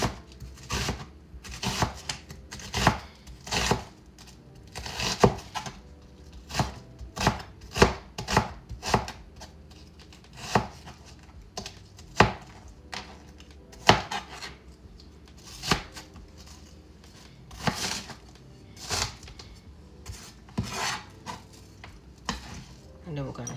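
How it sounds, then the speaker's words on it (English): A knife chops half a medium onion on a cutting board, giving sharp, close, irregular knocks in quick bursts with short pauses between them and a quiet background. "the first thing we're gonna do is cut up or chop up the onion"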